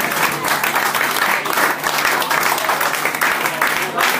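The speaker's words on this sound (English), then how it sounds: "big round of applause, ladies and gents" An audience at an evening event applauding, dense continuous clapping from a crowd, loud and close, holding steady for several seconds.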